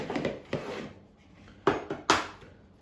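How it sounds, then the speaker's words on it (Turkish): An egg cracked against a hard edge for sugar-free cookie dough, several sharp close taps and knocks in a quiet kitchen with no talk. "Öncelikle yumurtamızı kırarak tarife başlayalım"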